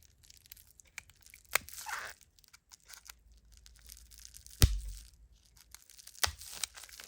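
Cutting through packaging tape to free a tungsten obsidian spinner from its box, a few sharp tearing and crunching strokes with quieter scraping between them, close and alone.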